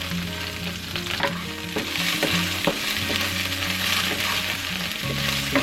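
Diced onions sauté in leftover oil in a pan, giving a steady loud sizzle with a busy crackle and occasional scraping clicks from stirring.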